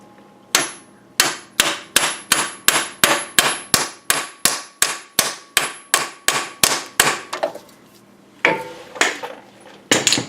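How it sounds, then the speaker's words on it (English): A seal driver taps a part onto an Acadia engine in a run of about twenty sharp metallic knocks at a steady rhythm, close and loud, followed by a pause and a few scattered final taps. "we're going to have to knock that thing on there a little bit"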